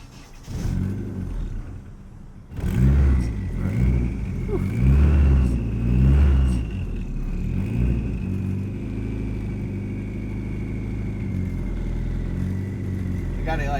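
A Nissan 240SX with a KA24DET engine idles roughly and keeps stumbling, with repeated throttle blips lifting the revs to stop it from stalling. The engine rumbles steadily close by while people talk over it.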